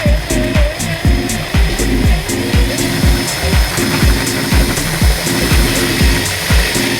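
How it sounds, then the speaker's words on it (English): A power drill with a large bit bores a hole through the body panel of a Vespa GT/GTS/GTV scooter, a loud steady motor whine with a rapid repeating rhythmic chatter as the bit cuts, close up and continuous with no talk. "I'm gonna proceed and finish drilling the hole with the big drill bit"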